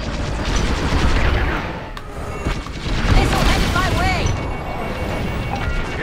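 Weapons fire in a Star Wars: Squadrons space battle, with heavy booms and rapid blaster-like shots layered over a constant roar of engines and sweeping chirps, and a voice talking over the din.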